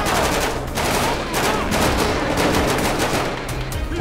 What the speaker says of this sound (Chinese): 火力交战中